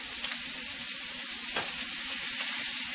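Shrimp sear in a hot pan with a steady, close, loud sizzle that barely changes throughout and has no talking over it.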